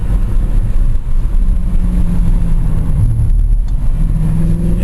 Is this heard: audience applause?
no